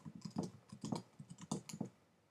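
Keys clatter on a computer keyboard as text is typed, quick clusters of close, crisp taps in uneven bursts, quiet overall, with no voices.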